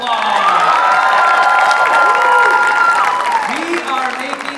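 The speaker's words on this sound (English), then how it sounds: "Give it a round of applause." Audience applause and cheering erupt at the first-ever LC Idol junior singing competition, a dense, steady wave of clapping with whoops and shouted voices sustained throughout.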